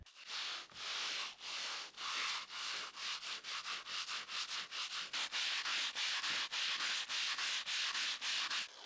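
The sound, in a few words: sanding aerated concrete masonry with a float and sandpaper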